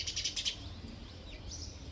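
A few quick, high chirps from a small bird at its nest with two chicks in a home garden, fairly close but soft, then quieter ambience with faint calls.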